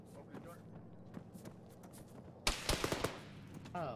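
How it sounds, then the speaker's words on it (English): Gunfire in the military simulation game Arma, quiet footsteps and faint distant shots at first, then a sudden burst of close, loud rapid cracks with a voice speaking near the end. "Oh, we are getting shot at."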